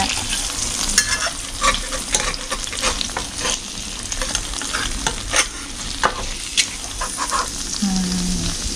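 A fried egg cooks in a pan, crackling and spitting in bursts over a low background hum, with frequent sharp pops and a few spatula scrapes, no speech heard.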